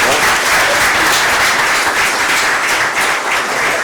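Steady audience applause fills a ceremony hall at the FAVA event as a man walks back to his seat after a speech, dense, loud and unbroken throughout.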